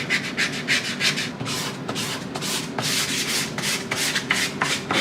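Wood furniture being hand-sanded smooth in a furniture workshop, steady rhythmic back-and-forth rubbing strokes, close and moderately loud, with no voices.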